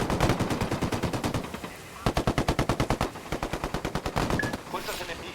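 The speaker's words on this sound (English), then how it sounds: "Opening fire on these fuckers." Automatic gunfire in Ghost Recon Wildlands rattles in rapid, evenly spaced bursts, loud and close, with brief pauses between strings of shots and a short chirp near the end.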